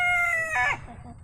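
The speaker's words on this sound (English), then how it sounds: "The rooster's going for the cucumber too." A rooster crows loudly at close range in a homestead yard among silkie chickens feeding on garden vegetables; the crow trails off into softer clucking and background farm noise.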